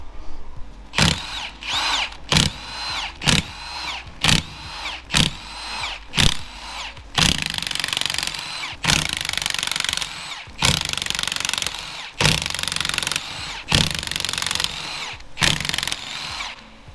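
A power tool whirs in repeated bursts undoing 13 mm differential bolts on a Ford Focus ST, short sharp zips at first, then longer sustained runs, loud and close with brief pauses between.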